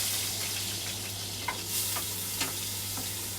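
Garlic sizzles in a hot pan with a steady, low crackling hiss and a few soft stirring scrapes, close and fairly quiet, with no voices.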